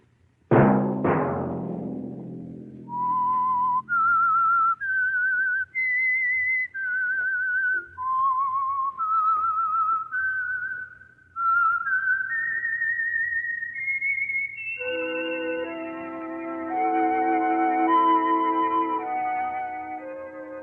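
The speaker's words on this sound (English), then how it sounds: "Let that whistle be your signal for the Signal Oil program, The Whistler, each Sunday night at this same time." A whistled signature theme from the radio drama The Whistler, a solo melody of sustained, gliding notes rising step by step, clear and close, followed by an orchestral passage with no voices.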